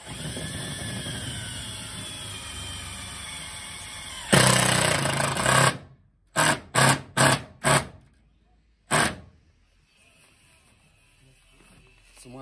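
Knauf self-tapping screw for acoustic panels driven by a power driver into decking panel: a steady whirring drive about a second long, then several short sharp bursts as the screw seats, with quiet between.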